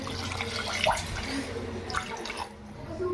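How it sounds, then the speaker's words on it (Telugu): A cup of water is poured into a pot of chicken curry, a short splashing gush up close with a few trickling drips as it settles. "అదిగండి ఒక చెమ్ము వాటర్ పోద్దాము."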